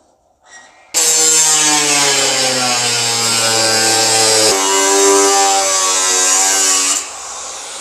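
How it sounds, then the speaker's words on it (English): A power tool cutting out a steel inner wheelhouse piece for a custom 1959 Chevy Viking truck dump/tilt bed whines loudly and steadily for about six seconds, its pitch dipping briefly midway, then winds down. "So I'm going to go ahead and finish tracing this line and get this cut out."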